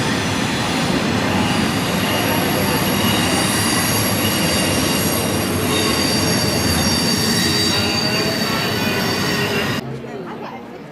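A train rumbles past close by, wheels squealing and rattling continuously on the rails, loud and steady, then cuts off abruptly near the end.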